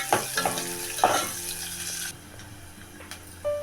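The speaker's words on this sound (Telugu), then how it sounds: "వేగనివ్వాలి." Chopped onions and green chillies sizzle in a hot pan for a mutton curry, with a spoon scraping and stirring them in a few quick bursts before the frying settles to a quieter hiss.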